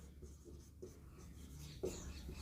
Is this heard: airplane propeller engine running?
no